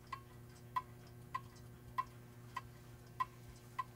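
A public clock in the Rivière-du-Loup town hall ticks in a steady, even rhythm, seven crisp ticks in four seconds, fairly faint over a low hum.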